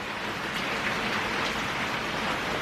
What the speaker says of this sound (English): I love the sound of the rain, don't you?